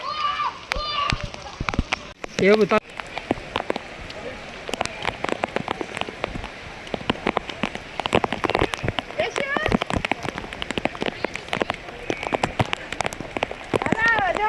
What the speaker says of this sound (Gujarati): વરસાદ આવ્યો નાવા.